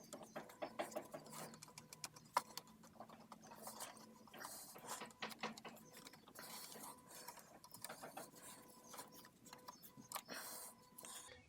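A hand ratchet works on the charge pipe bolts of a BMW F80 M3, giving rapid repeated clicking in uneven bursts, close and quiet, with no talking.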